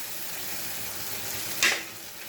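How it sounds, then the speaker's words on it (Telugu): Mushrooms frying in oil in a pan for a cashew mushroom gravy curry, a steady close sizzle with a brief louder hiss as they are stirred near the end, no talking. "ఇప్పుడు మష్రూమ్స్ కూడా వేస్తున్నానండి. ఇలా ఒక 2 to 3 minutes అండి ఫ్రై చేసుకుందాం."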